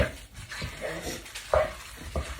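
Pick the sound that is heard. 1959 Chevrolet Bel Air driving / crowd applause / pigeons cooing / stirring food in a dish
stirring food in a dish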